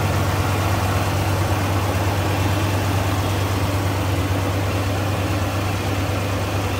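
Engine of a 1970 Cadillac DeVille Convertible idling with the hood open, a steady, loud, low rumble with even vibration and no voices over it.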